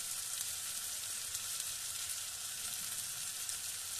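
Liver sizzles steadily in a pan with turmeric, ginger-garlic paste and salt, a continuous close, even frying hiss with no pauses.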